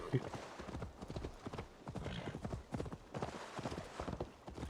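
Horse hooves clip-clop at a steady trot in Assassin's Creed Valhalla, a continuous, fairly close rhythm running under steady talking voices.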